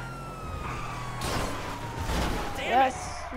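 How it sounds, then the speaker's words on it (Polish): A steady police siren tone in GTA sweeps slowly downward over engine rumble and game noise, with a voice speaking briefly. "Włączamy syreny w sumie, bo pomaga."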